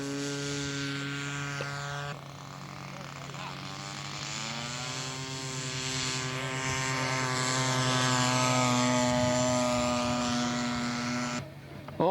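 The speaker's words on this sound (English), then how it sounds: "STOL takeoff." A model STOL aircraft's small engine drones with a steady, loud propeller buzz that shifts in pitch as it takes off. The whine stays close and continuous to the end, with no talk over it.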